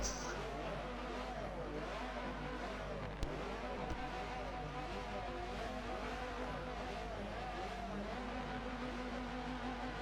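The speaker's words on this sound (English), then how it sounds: "Revs are climbing." A race car engine revs in the video game OMA Touring Car Championship at the Nurburgring GP circuit, its pitch rising and falling repeatedly with a constant low rumble underneath, moderately loud.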